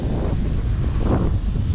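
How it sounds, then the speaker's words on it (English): Steady wind buffets the microphone aboard a superyacht passing through a bridge, a low, rumbling roar that swells slightly midway, continuous and close throughout. "It's quite windy today,"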